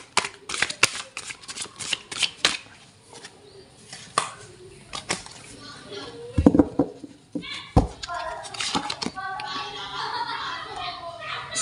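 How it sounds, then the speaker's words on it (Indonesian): Tarot cards are shuffled in repeated crisp riffles and flicks, with bursts of card noise between stretches of quieter handling, while a person speaks over them. "kita akan shuffle kartunya"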